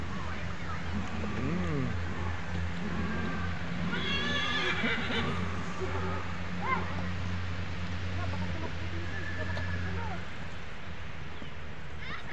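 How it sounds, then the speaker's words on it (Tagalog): Horses neigh and whinny several times at an outdoor picnic spot with a pony nearby, the calls rising over a steady low hum and background chatter, with a few clucking chickens and people talking throughout. "Ay, mga kabayo"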